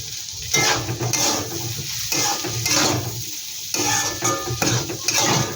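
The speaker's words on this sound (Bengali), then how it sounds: "এটা একটু ভালো করে আমি ভেজে নেব" Egg and Maggi noodles frying in a pan, with steady sizzling broken up by repeated scraping and stirring strokes of a utensil against the metal, close and fairly loud, no voices.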